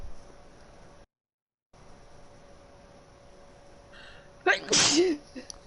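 A single close, sharp sneeze bursts out near the end over a faint steady room hum, after a brief moment of total silence.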